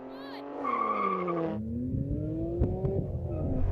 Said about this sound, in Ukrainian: Давай БМВ, піддай обертів